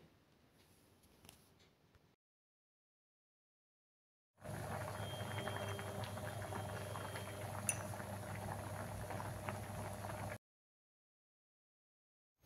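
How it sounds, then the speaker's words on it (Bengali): A pot of pea dal with spices and green chillies bubbles on the stove, a close, steady boiling burble lasting several seconds between quiet gaps. "সব কিছু দিয়ে খুব ভালো মতন কিন্তু এখন ডালটাকে বেশ খানিকক্ষণ ফুটিয়ে নিতে হবে।"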